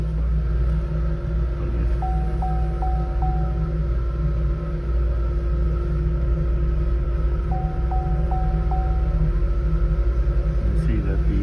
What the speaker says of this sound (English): You can see that the engine RPM went down and almost stalled out the car when the EGR opened.